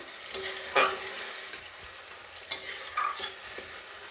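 Apple and kul (jujube) chutney being stirred in a pan, a soft steady scrape and gentle simmering sizzle with a few sharper spoon knocks against the pan, close and alone without talk.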